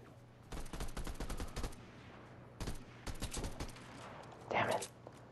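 Shotgun gunfire in the video game Fortnite, several sharp loud bursts in quick clusters with short pauses between them, alongside game sounds.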